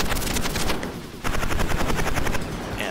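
Rapid gunfire and missile launches from the 1988 Data East arcade game Bad Dudes, heard as a dense, loud, rattling burst of fast repeated shots over a rumbling electronic roar.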